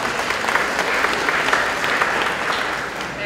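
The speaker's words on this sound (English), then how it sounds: "give yourselves a round of applause for being here" Audience at a San Diego forum panel on fake news clapping for themselves; dense, steady applause throughout the short stretch, fairly loud and close, with a few individual claps standing out.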